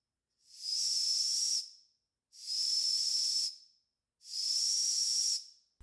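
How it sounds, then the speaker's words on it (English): Three separate bursts of a thin, very high-pitched whistle with hissing steam from a small vintage toy steam engine, each lasting about a second and a half with short silent gaps between. "there is a very, very high-pitched whistle coming out of it"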